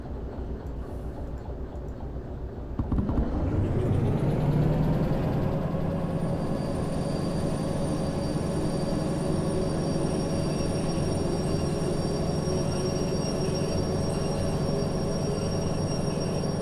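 A locomotive in Derail Valley starts up after a quiet moment, then a loud, steady low engine rumble with rolling rail noise and a faint high whine carries on evenly, close and without voices.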